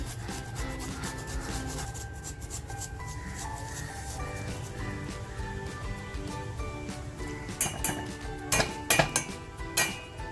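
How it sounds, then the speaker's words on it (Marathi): Fresh ginger is grated for masala tea, a soft repeated rasping scrape against a grater with light metallic clinks of kitchen utensils, growing sharper and more clattery toward the end. "आलं घेतलंय मी आलं छान असं किसून टाकते"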